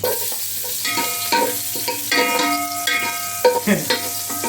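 Steady crackling sizzle of garlic frying in hot oil, with occasional stirring clatter and faint tonal hum in the background.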